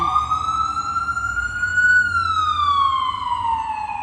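A loud emergency vehicle siren wails steadily throughout, its tone sweeping up and then gliding down, with strong harmonics over low rumbling background noise and no talk.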